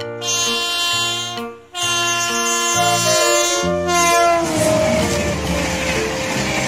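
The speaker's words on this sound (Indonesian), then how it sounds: "Ada lokomotif MRT, teman-teman." An MRT Jakarta train passes close by and sounds a loud, sustained multi-tone horn that cuts out briefly and resumes, followed by rising rumble and rail noise as the cars roll through.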